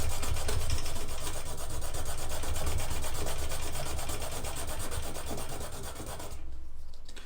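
A hand scraper shaves cane from the center channel of a historical-style bassoon reed, a continuous close rasping scrape in steady strokes with no talk, which breaks off briefly near the end.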